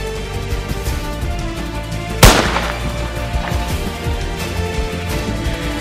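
A single sharp gunshot-like bang rings out once partway through, sudden and loud, then decays over a steady low background with no speech.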